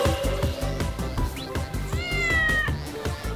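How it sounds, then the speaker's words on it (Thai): A cat meows repeatedly and close as it meets a goat. The cries are loud, clear and drawn out, coming in a quick succession of calls. "เมื่อคืนเนี่ยเราพาปาจิ๋วมาเจอนะดูว่าน้องจะเป็นยังไงเมื่อเจอกับแมว"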